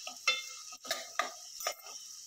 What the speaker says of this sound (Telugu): ఉల్లిపాయలు బాగా వేగిపోయాయి.